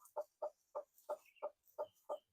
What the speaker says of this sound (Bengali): মুরগিটাকে আলতো করে উঠিয়ে নিলাম, যদিও চলে যাওয়ার সম্ভাবনা আছে।